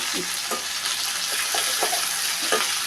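Okra frying in a pan with green chillies, salt and turmeric, a constant sizzle with a few soft spatula stirs at irregular intervals, close and fairly loud.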